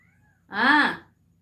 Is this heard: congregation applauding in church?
no